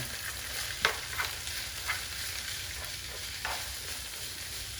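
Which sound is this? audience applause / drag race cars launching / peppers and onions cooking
peppers and onions cooking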